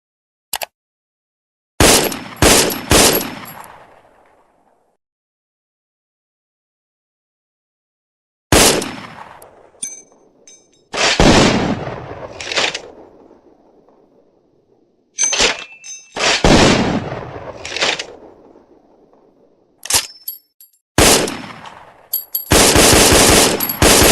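FN FAL rifle gunfire in loud, close bursts and single shots separated by silent gaps, each report trailing off in a long echoing decay, ending in a dense rapid burst, with no voices.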